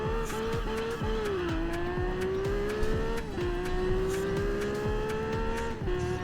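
A Lamborghini Murcielago's V12 drones in the racing game Test Drive Unlimited, holding a steady high engine note with rising shifts and brief dips, while faint tire squeals and passing whooshes sit under it.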